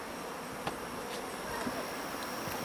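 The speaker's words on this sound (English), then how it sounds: "the wasps have been, and yellow jackets have been out here trying to rob out the colonies" Wasps and yellow jackets buzz around honeybee hives in an outdoor apiary as they try to rob the colonies, a steady, low insect drone with a few brief nearer passes.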